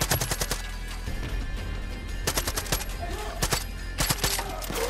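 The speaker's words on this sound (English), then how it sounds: "Oh, no, that's a shot. That's a gunshot." Gunfire in the video game Far Cry 5 during the Faith boss fight, rapid bursts of sharp shots in clusters over a constant game background, loud and close, with no talk.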